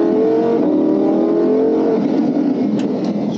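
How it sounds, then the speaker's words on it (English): A red Lamborghini Huracan with a V10 engine accelerates hard, its loud rising engine note heard from inside the car, rich and continuous, climbing in pitch through the gears. "Straight away, instant power from that V10 behind me."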